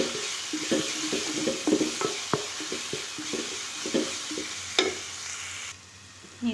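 Crushed ginger, garlic and green chilli sautéing in sunflower oil for aloo paratha filling, with steady close sizzling broken by repeated stirring clinks and scrapes of a spoon against the pan, quieting briefly near the end.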